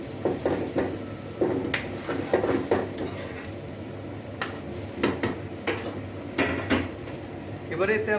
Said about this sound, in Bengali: ঝোলটা ফুটে উঠেছে, এবার এর মধ্যে আমি দিয়ে দেবো আগে থেকে ভেজে রাখা মাছগুলো।